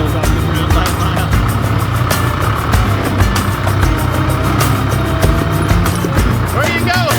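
A vehicle plowing snow on a driveway at night, its engine droning loud and steady with scraping and rumbling throughout, front wheels lifting off the ground; people talk over it.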